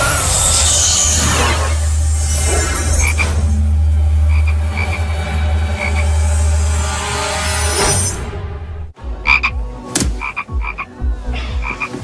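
A toad croaks loudly and repeatedly in a TV show scene, with dense rhythmic croaking and a droning backdrop that cuts out, followed by a few sparser, separate croaks.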